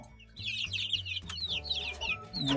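Minorca, Leghorn and Amrox chickens, hens and chicks, clucking repeatedly with high chirping calls over a steady low hum, fairly close.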